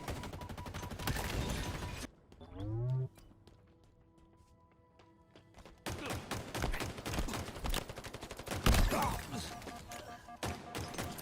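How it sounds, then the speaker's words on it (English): Bursts of gunfire and grenade blasts from a Halo Infinite match, loud at the start, then a quiet stretch with rising synthetic tones before dense firing and a heavy explosion return. "You lay down grenades in anticipation of where the enemy is coming."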